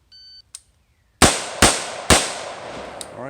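Rifle shots from an AR-15 during a shooting drill: three loud, close cracks in quick succession, each with a ringing decay, preceded by a short electronic beep from a shot timer, with no talking.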